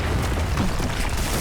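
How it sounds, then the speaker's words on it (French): A deep booming explosion from the video game Batman: The Enemy Within, a loud sustained rumble filling the short moment with no speech. "Mais attendez, c'était pas une petite explosion, là?"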